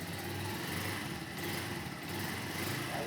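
A motorcycle engine runs steadily with the throttle held slightly open, a continuous buzzing drone at fairly close range with no pauses.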